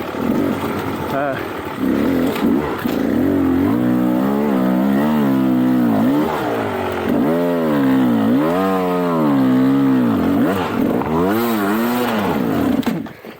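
Loud, close two-stroke engine of a 2021 Beta 300 Race Edition dirt bike during a ride, revving up and down steadily with rising and falling pitch as it shifts through the throttle.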